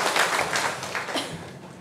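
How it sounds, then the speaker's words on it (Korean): A congregation applauding in a Korean church during Sunday worship, a dense wash of clapping from many hands that fades after under two seconds. "우리 주님께 영광의 박수를 올려드리겠습니다"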